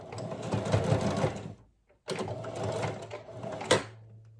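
A sewing machine stitching straight seams with back stitching on waistband elastic: a close, steady whirring run, a brief pause of silence, then a second run of whirring stitches ending with a small clunk.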